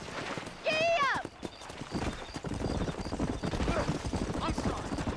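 In the Red Dead Redemption video game, a horse gallops with rapid, close clip-clop hooves after a sharp neigh at the start, with the rhythmic pounding continuing steadily to the end.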